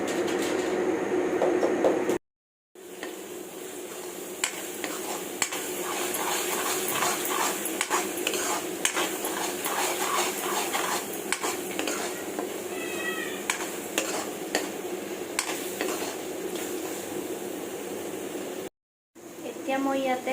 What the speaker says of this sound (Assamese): এতিয়া মই এইখিনি তেলত দি দিলোঁ। এইখিনি আকৌ ভাজিব লাগিব অলপ।